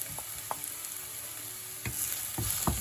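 Chili and spring onion fry in a hot pan for crispy chili garlic prawns with broccoli, giving a steady, close sizzle punctuated by a few sharp knocks and scrapes of stirring.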